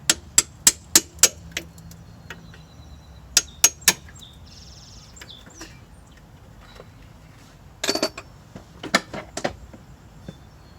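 Hammer striking a car's front strut assembly, sharp metallic clanks in quick runs of four or five blows, then a scattered cluster later, fairly faint against a quiet background.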